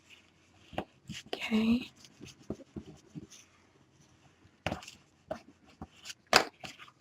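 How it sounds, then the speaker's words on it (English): Paper being burnished down onto a mini album, with short scattered rubbing and scraping strokes, a few louder scratchy bursts, quiet gaps between them, and a brief spoken word. "So just burnishing this down."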